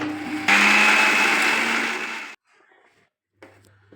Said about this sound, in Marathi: आपण मिक्सरच्या भांड्यामध्ये काढून घेतलेलं आहे आणि आपण त्याला फिरवून घेऊया